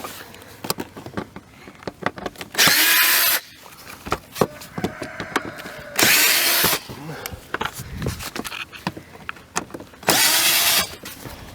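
Three bursts of a power tool working bolts loose on the drive belt housing of a Polaris, each lasting under a second, loud and close, separated by clanks and handling noises from the housing and hardware.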